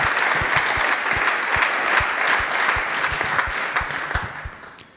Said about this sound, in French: Je pense qu'on peut applaudir à nouveau Céline Guivarch